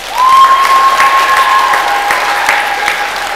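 A middle school audience claps in a dense, sustained burst of applause that starts suddenly and holds steady, with a faint whistle-like tone running underneath.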